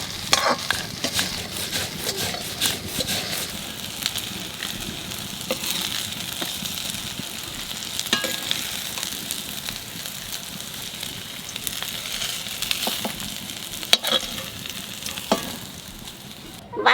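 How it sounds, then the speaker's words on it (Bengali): Vegetables frying and being stirred in a hot pan in a home kitchen, a continuous loud sizzle with repeated scraping and clinking of the spatula throughout, no talking. "ভাজাভুজি তো আমি করে নিলাম"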